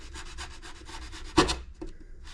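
Rust being rubbed off a steel snowboard edge, a quick series of short scraping strokes close up, ending with a couple of louder rubs.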